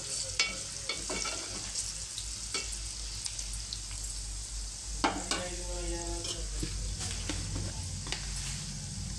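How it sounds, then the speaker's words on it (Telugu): Cut boiled eggs frying in oil in a pan with a steady, close sizzle, broken by the scrape and clink of a utensil stirring against the pan. "ఎగ్స్ అయితే ఇలా ఆయిల్లో వేసుకొని ఎంచుకోవాలి"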